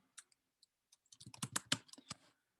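Fingers type on a computer keyboard, starting with a few isolated taps and then breaking into a quick, close cluster of keystrokes before stopping, with no talking.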